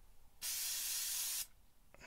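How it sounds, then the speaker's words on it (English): A single one-second burst of CA glue activator sprayed from a can, a bright, close hiss that starts and stops sharply, with only quiet room noise around it. "I'm gonna spray some activator on this."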